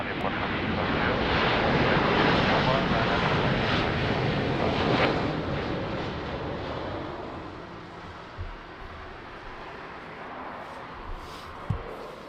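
Airplane landing at Lisbon Airport in rain, a broad jet roar that is loud at first and then gradually fades, ending in a few faint thumps.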